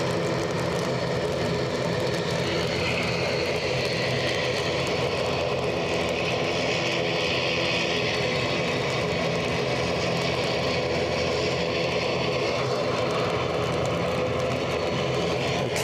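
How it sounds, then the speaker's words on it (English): A Turkish Airlines jet rolls along a wet runway at Edinburgh Airport, its engines a steady, broad roar heard from a distance, with a gentle rise and fall in pitch and no voices. "the Turkish Airlines arrival is just vacating now"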